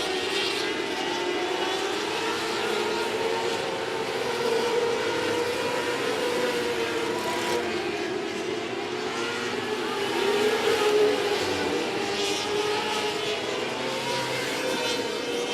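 Race cars lapping 105 Speedway during a regular race program, a steady dense engine roar from a pack with a two-car battle at the front, heard continuously at a distance without pause.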